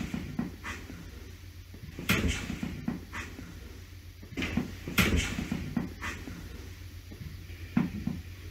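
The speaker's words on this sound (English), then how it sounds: "with the boosted audio, you can hear the door unstick from the top of the door frame." Door stuck in its frame pulling free at the top, heard as several short knocks and creaks at irregular intervals indoors, moderately loud against a quiet room.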